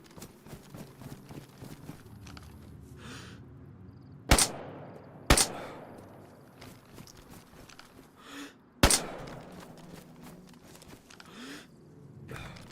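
Suppressed gunshots fired in DayZ on the Deer Isle map: three sharp, muffled cracks spaced a second or so apart and then a few seconds later, over a steady bed of ambient game noise.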